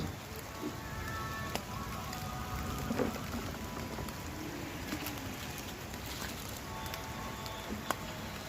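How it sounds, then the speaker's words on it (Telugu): Heavy rain falls in a steady, even wash with scattered drips and a faint bird cooing now and then. "వర్షం పడుతుంది ఫుల్గా"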